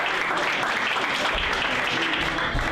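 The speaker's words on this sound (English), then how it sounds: "she should be applauded for twins" Audience applause at a college athletics hall of fame ceremony, a dense sustained clapping from a large room that holds steady throughout, fairly loud with no talk on top.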